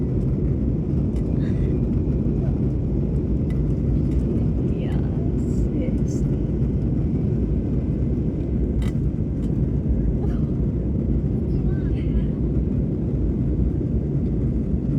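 Steady, loud broadband engine roar fills the whole stretch, the constant low drone of an airplane cabin, with faint brief clicks above it.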